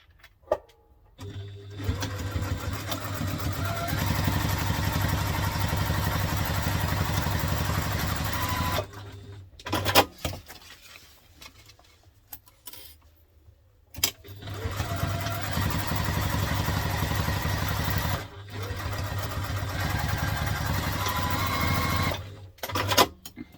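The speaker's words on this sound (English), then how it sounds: "And then I'm going to stitch those two together." A sewing machine stitches laptop briefcase pieces together at construction length in long, loud, steady runs of rapid mechanical whirring, stopping twice for short quiet pauses before starting again.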